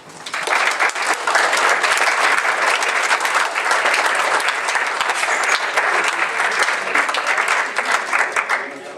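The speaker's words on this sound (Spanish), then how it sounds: "Démosle la bienvenida con un fuerte aplauso." A student audience at a civil engineering week event at the Tecnológico de Tijuana applauds to welcome a speaker, loud sustained clapping from a large crowd that rises quickly and holds steady throughout.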